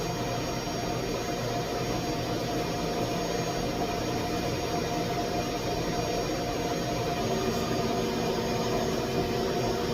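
An X-Carve Pro CNC machine runs its spindle with a steady, loud, even whine and hum. The tone holds constant with no pauses across the whole stretch and no voices.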